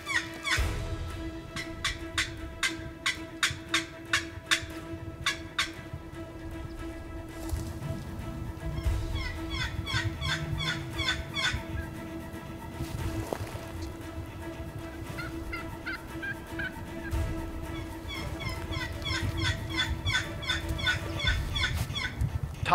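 Wild turkey gobbling repeatedly during a South Carolina hunt, sharp rattling bursts in a steady series at first, then more scattered gobbles over a constant background hum, moderately distant and with no talk.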